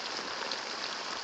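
Steady rain falls outdoors as an even, dense hiss with no break, close and fairly soft, heard alone for about a second.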